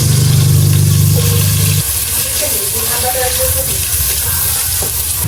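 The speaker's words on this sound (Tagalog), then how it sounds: "bali magigisa na po tayo ng bawang at sibuyas" Garlic and onion sizzle and hiss steadily in a hot pan for a Filipino sautéed dish with fat mud crabs, with a stirring rustle and a low music-like drone, strongest over the first two seconds.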